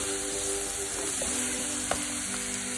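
Onion and two colours of capsicum are sautéed for chilli paneer, a close, even sizzle with an occasional spatula tap, over a faint steady hum.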